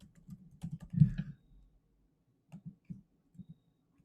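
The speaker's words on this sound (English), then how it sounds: "We can click in cell A1 and we can type the title, Earthworm Distribution Experiment." Typing a title on a computer keyboard into a Google Sheets cell, a quiet close burst of rapid key clicks followed by a few sparse, isolated keystrokes with pauses between them.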